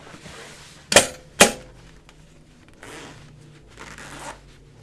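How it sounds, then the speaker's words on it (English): A metal zipper fly on a pair of homemade sewn jeans is zipped, giving two sharp, close rasps in quick succession, followed by fainter rustling of fabric. "going to just look at my fly zip like that"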